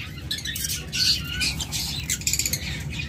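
A violet pair of pet birds at a bird sale chirps and squawks close by in quick, scattered calls, ending in a rapid run of sharp notes.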